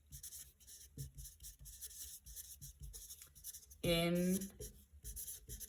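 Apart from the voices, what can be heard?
writing substituent names on a board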